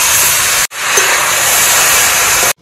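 A loud, close sizzling hiss as vegetable curry is poured into a hot pan of oil with fried lentil dumplings, a sustained roar after a brief first splash that cuts off abruptly.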